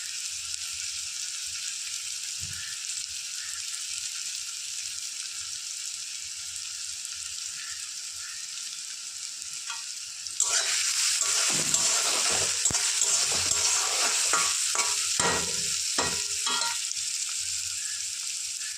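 Onions for a soyabean curry fry toward a deep maroon-brown, starting as a quieter background hiss, then bursting into a loud, crackling sizzle with repeated stirring scrapes and taps for the second half.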